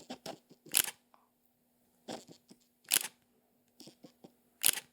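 A Fujifilm X-M5 camera's shutter fires four times, each a crisp, close double click of a small mirrorless body, spaced about a second apart and separated by silence.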